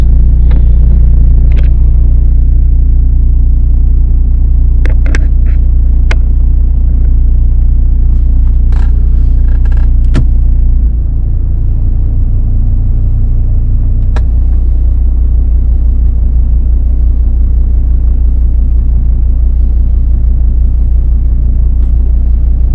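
A Volvo with a 5-speed automatic transmission idles in gear during a transmission fluid flush, giving a loud, steady low engine rumble that shifts slightly in tone partway through, with faint clicks and no speech.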